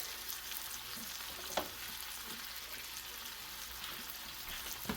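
Foraged pheasant back mushrooms cook in a pan with a soft, steady sizzle and an occasional stir or tap, all fairly quiet and with no talking.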